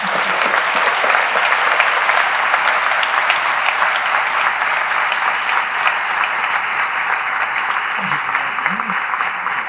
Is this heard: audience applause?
yes